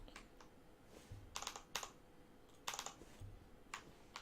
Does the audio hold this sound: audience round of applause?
no